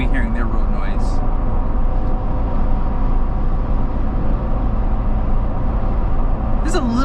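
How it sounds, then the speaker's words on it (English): A steady low rumble of road noise fills the cab of a moving 1958 Toyota Land Cruiser on 34-inch tires with a 3.5-inch lift, constant and fairly loud, with brief faint sounds near the start and end. "There's a little bit of road noise."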